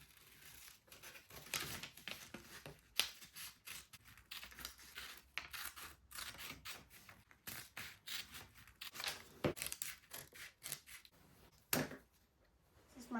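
Scissors snip through corset pattern pieces in quick irregular cuts, close and crisp, with paper rustling and handling noises between bursts and occasional louder clacks.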